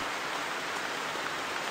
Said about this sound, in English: We're just getting rained out like crazy